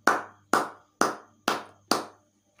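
Church congregation clapping in unison during a morning prayer service, five loud, evenly spaced claps about half a second apart, with no talking.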